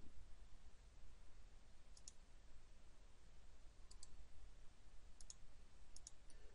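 A handful of faint, sharp computer mouse clicks, some in quick pairs, are spaced a second or two apart over a steady quiet hiss while drawing a molecule in Accelrys Draw.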